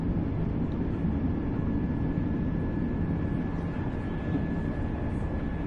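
A Class 805 Evero train running at about 110 miles an hour in Train Sim World 6, heard as a loud, steady rumble with a thin constant whine above it, no voices.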